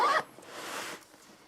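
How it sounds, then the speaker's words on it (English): A zipper on a 10-liter PGYTECH OneGo camera shoulder bag is pulled in a short, close rasping burst, then a softer, quieter slide of fabric and zipper teeth trails off within about a second. "zipper."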